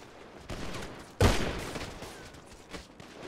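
Gunfire in GTA V, a sudden loud burst of rapid shots erupting after a quieter stretch, then fading into scattered lighter pops and echoes, with no talking.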